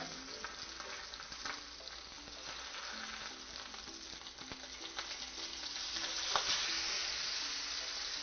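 Salmon sears in a frying pan with a steady, dense sizzle that holds throughout, rising slightly louder near the end, with a few faint clinks and no talking.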